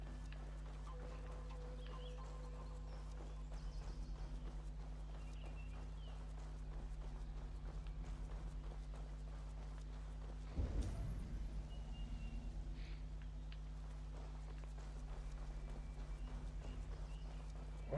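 Horse hooves clip-clop in a steady rhythm within the Assassin's Creed Valhalla video game, with a brief louder thump midway, under a constant low game ambience and faint background sounds.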